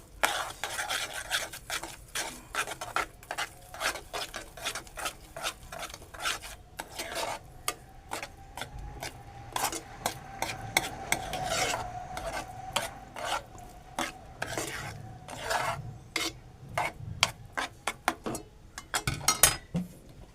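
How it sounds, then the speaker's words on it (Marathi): Moong dal halwa is stirred and sautéed in a pan, with a utensil scraping and rasping against the metal in steady, repeated strokes, close and fairly quiet, with a faint sizzle beneath and no talking. "आपण आता परतून घेऊ व्यवस्थित परत"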